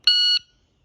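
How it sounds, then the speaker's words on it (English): A single electronic shot timer start beep on instant delay, one clean steady high-pitched tone lasting about a third of a second, close and loud, then silence. "there's either instant, where you push the timer button and it goes off"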